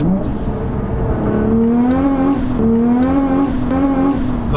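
A 660 BHP Nissan GTR accelerates hard, its engine note rising steadily through the revs as a loud, close, continuous roar with one brief dip in pitch mid-pull.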